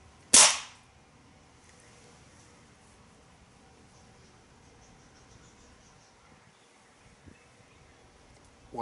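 A single sharp BB pistol shot from a Daisy 11A1 or Crosman P15B fires near the start, loud and close, followed by a quiet room with a faint click near the end.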